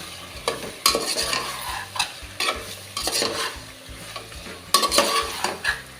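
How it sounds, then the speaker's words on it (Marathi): Chicken pieces frying in oil with masala in a pot for biryani, a steady bubbling sizzle with repeated rhythmic scraping stirs of a spatula, close and moderately loud. "हे चिकन आहे आपण तेलावर परतून घेऊया"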